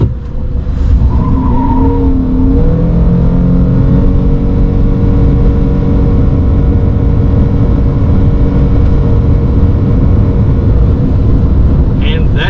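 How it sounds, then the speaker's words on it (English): A 2025 Ford Maverick XLT pickup's engine roars loudly and steadily in sport mode as it accelerates hard from 0 to 60, the revs climbing continuously for the whole stretch with a brief tire chirp early on. "let's do a really quick 0 to 60 run"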